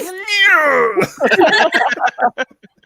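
A cat lets out a drawn-out, rising-then-falling meow followed by a quick string of shorter chirping mews and trills, close and loud, with nothing else heard.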